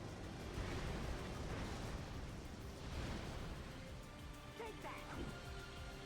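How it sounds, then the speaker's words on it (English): A big mushroom explodes in Hyrule Warriors: Age of Imprisonment, giving a loud, sustained rumbling blast that fills the clip, with crackling debris and a few small pops near the end; a voice murmurs faintly underneath. "One big exploding mushroom."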